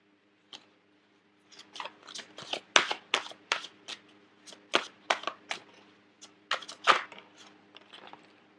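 Tarot advice cards being shuffled by hand: a series of quick, crisp papery riffles and flicks in irregular bursts, close and fairly quiet, with no talking.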